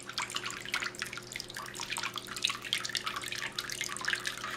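Water trickles and splashes steadily in a small homemade tabletop fountain, a soft continuous patter of falling water heard up close with no voices.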